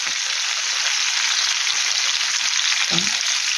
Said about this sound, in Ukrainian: тільки так трішечки недовго буде цибулька присмажити